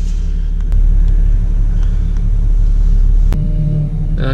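A car engine idles in stalled road traffic, giving a steady, close, low rumble that holds through the whole stretch, with a brief sharper sound near the end.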